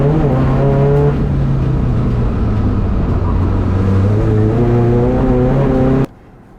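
A Volkswagen Amarok 3.0 TDI V6 manual pickup revs hard with its wheels spinning: a loud, close diesel drone rising and falling in surges, then cutting off abruptly near the end.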